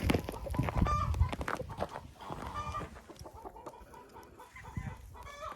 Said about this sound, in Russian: Это старые курочки